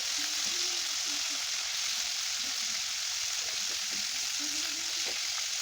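Broiler chicken pieces fry in a pan with a steady, close hiss of oil, broken by a few soft scrapes as the meat is turned, with no voices.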